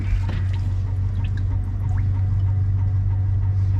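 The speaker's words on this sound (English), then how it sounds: "See how I can hear it pumping water out?" A pump on a 22/24 Defiance boat pushes water out of the hull with a loud, steady low hum and faint trickling of water running continuously close by.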